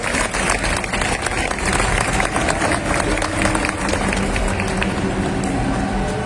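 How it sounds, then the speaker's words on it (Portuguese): Audience applauding at a Sato Company panel, dense sustained clapping from a crowd that fills the room evenly and continues throughout at steady loudness. "vou pedir mais uma salva de palmas"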